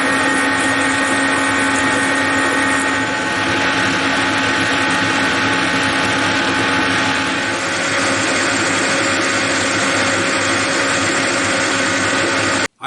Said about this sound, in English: I finished the boring where the bull gear will sit in this model shaper.